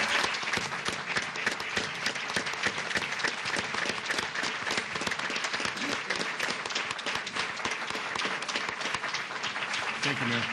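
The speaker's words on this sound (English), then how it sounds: "Give them a round of applause." City council chamber audience applauding students, loud continuous clapping sustained for about ten seconds without letting up, close and dense, with faint voices under it.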